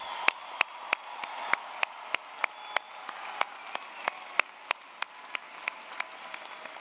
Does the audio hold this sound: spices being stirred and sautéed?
no